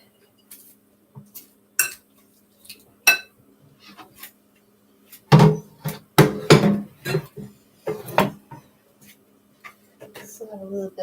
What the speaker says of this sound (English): Keep mixing our salad up a bit.